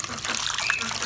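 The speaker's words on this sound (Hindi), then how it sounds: "ये पानी भर लेता हूँ मैं यहाँ से साफ सुथरा ताज़ा पानी" Fresh, clean water runs with a brief, soft hiss as a container is filled for pet birds, under someone's speech.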